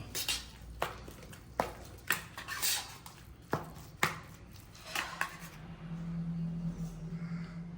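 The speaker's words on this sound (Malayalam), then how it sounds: "കുറച്ച് നാടൻ വെളിച്ചെണ്ണ ഒഴിച്ചു കൊടുക്കാം നന്നായിട്ട് മിക്സ് ചെയ്ത് കൊടുക്കാം" Rice mixed with coconut oil for pothichoru makes a series of sharp scraping and clinking hits of a utensil against a pot, arriving in an irregular rhythm close by, then easing into a quieter low hum.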